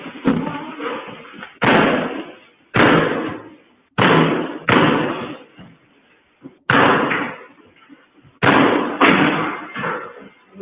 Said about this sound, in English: He kicking all the doors, y'all. They locked.